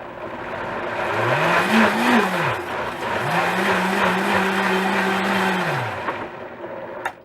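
A blender whirring as it mixes borsch ingredients, with two long motor runs that rise, hold and fall, the second longer, loud and close with a grinding hum and no talk.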